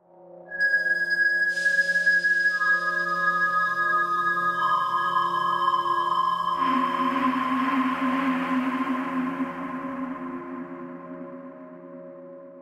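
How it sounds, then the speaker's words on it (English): Layered synth textures run through an OTO Bam reverb, with sustained tonal drones and shimmering overtones entering in stages, swelling into a dense wash and slowly decaying in a long, spacious tail. "I had some textures going into the OTO Bam reverb"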